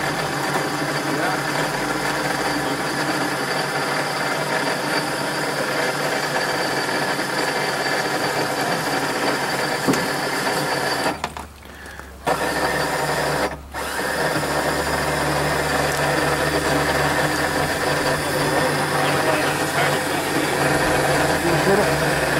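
A winch hauls a bull moose onto a trailer during a Maine moose hunt, its steady motor whine running loud and continuous, cutting out briefly twice partway through before resuming, while people talk faintly in the background.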